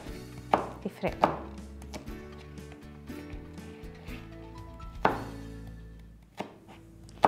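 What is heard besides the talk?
chopping onion with knife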